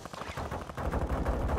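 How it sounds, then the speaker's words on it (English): Rapid machine gun fire in Call of Duty DMZ, a close, dense burst of shots that grows heavier in the second half. "We're using a machine gun."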